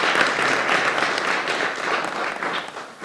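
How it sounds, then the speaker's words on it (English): Audience clapping at a women's event, a dense, even burst of applause from a crowd that carries on for a few seconds before tapering slightly. "Let's clap for ourselves."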